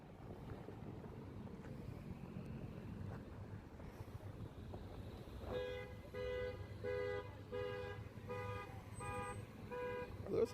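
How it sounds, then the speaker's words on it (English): Car horns honk at a protest outside an ICE facility in Portland, a series of short repeated toots rising over wind and traffic rumble after a stretch of low street noise. "There's a honk. That's a good honk."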